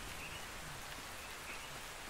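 Soft, even rainfall in Ark Survival Ascended forms a quiet, unbroken hiss of drops, faint and steady from start to finish with no talking.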